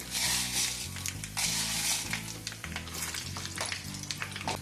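Mustard seeds, cumin and urad dal sizzle with dried red chillies in hot oil: loud, dense crackling and hissing close by, with bursts of popping and light stirring scrapes, no voices.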